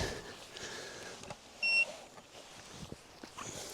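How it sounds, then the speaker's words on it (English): A short electronic beep from an EcoFlow Delta 2 power station switching on rings out over steady background hum and faint clatter. "Oh, it's beeped so something's happening."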